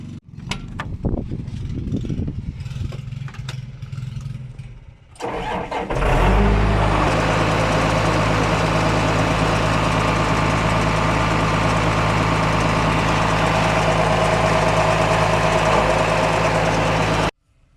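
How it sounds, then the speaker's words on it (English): An old Ford tractor engine cranks and catches after a few seconds of clatter, then settles into a loud, steady idle that runs until it abruptly cuts off. "we're going to start the tractor and engage the clutch"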